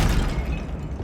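In Hogwarts Legacy, a Confringo fire spell bursts in a short, dense, loud boom with a rolling low-end rumble that fades slightly over about a second.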